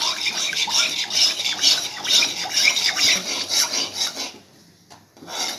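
Rice flour mixture stirred steadily in a heavy pan, a continuous rasping scrape with rhythmic strokes that stops near the end before one more brief scrape.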